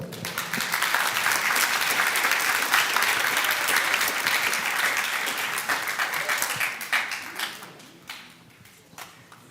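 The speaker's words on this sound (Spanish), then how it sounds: "lo vamos a recibir con un fuerte aplauso" A crowd at a conference on judicial reform in Mexico applauds loudly and steadily, the clapping thinning out and fading into a few scattered claps at the end.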